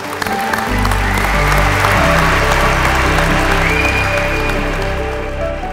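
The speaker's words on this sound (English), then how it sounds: "One big round of applause." Sustained applause from a commencement crowd at a medical school's inaugural graduation for the class of 2022, steady and full for several seconds, with music playing underneath.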